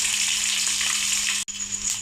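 Steady, bright sizzling of ginger and garlic frying in hot oil, continuous and close, with a brief clatter partway through.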